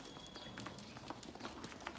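Sheep hooves, Assaf sheep on a farm, scrabbling and jumping across hard ground in a quick, uneven clatter of light steps, faint and close.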